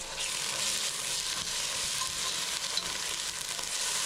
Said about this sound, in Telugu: 2 టేబుల్ స్పూన్ అల్లం పేస్ట్ కూడా వేసుకొని అల్లం పేస్ట్ బాగా పచ్చివాసన పోయేదాకా ఫ్రై చేసుకోండి